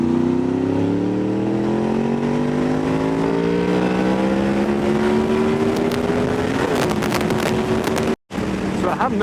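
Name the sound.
Honda VFR 800 motorcycle engine with exhaust baffles removed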